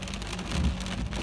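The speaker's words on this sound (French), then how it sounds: "Regarde la grêle, c'est la grêle." Steady dense patter of hail drumming on a car body during a thunderstorm, a continuous close clatter with a low rumble beneath and no voices.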